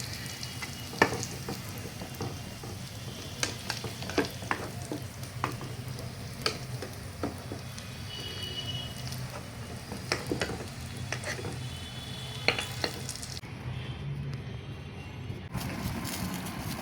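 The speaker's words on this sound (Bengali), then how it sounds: "বন্ধুরা দেখেন আমার চিকেন ভাজা হয়ে গেছে" Chicken pieces fry in oil with a continuous dense crackling sizzle and scattered sharp pops, close and steady throughout, with no voices.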